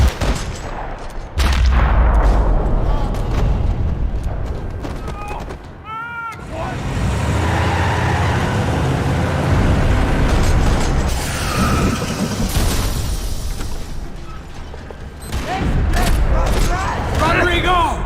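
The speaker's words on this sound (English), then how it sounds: "Another parking lot rattling with gunfire." Gunfire rattling across a parking lot in the video game Max Payne 3, loud dense bursts of shots and booms running almost continuously, with a short lull near the middle and voices shouting amid the fighting.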